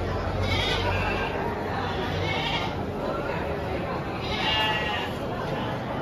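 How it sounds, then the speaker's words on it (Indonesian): Goats bleating in long, wavering calls, two prominent cries rising over a noisy farm background with low murmuring, at a goat sale. "ini dom kambing ya."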